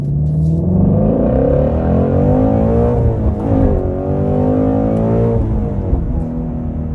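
A Shelby GT350 with loud exhaust launches hard, its engine roaring and rising through revs close by, with a brief dip as it shifts before surging again.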